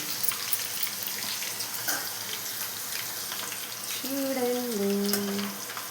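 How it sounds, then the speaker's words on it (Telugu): Crispy corn kernels deep-fry in hot oil with a continuous soft, bubbling hiss. A voice speaks briefly near the end. "వావ్, చూసారా అండి, మంచిగా వేగిపోతున్నాయండి"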